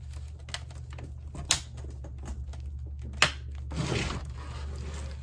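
A flathead screwdriver prying the plastic front frame off a Dell LCD monitor, sharp clicks and snaps of plastic giving way with scraping and creaking between them, close up and without talk.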